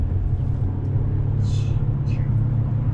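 Toyota Corolla Cross Z E-Four hybrid SUV pulling away smoothly from low speed after a highway toll gate, a steady low engine and road rumble throughout with faint cabin sounds above it.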